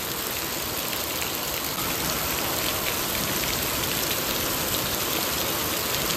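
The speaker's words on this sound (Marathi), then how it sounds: "हा पाऊस जो पडतो तुम्ही आजचा, तुम्ही बघून घ्या, तुफान पडतोय." Heavy unseasonal rain pours steadily at night, a dense, even roar of drops hitting surfaces with no breaks and no voices.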